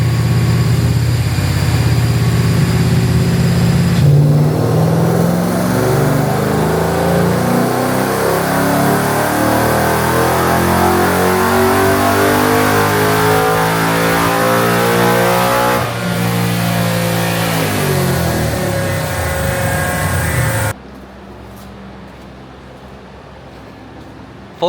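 A Coyote-swapped SN95 Mustang engine runs hard on a dyno, revving steadily upward for about twenty seconds with a loud, rising roar, then dropping off sharply to a much quieter idle.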